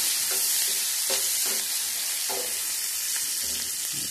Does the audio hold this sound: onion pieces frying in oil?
yes